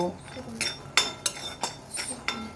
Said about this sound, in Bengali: কাঁচা বাদামটা খুব দারুণ করে আমি ভেজে নেব